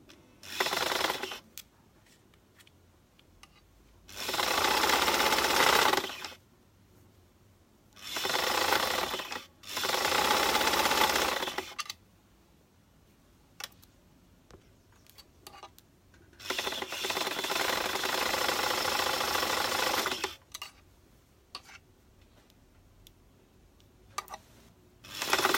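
A sewing machine stitches a maxi skirt in several loud runs of rapid mechanical chatter, some several seconds long and some short, with quiet gaps and small handling clicks between them.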